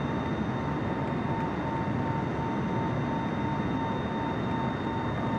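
Boeing 747 engines roaring steadily through a takeoff roll in a flight simulator game, a constant loud broadband rumble with faint tonal whine and no speech.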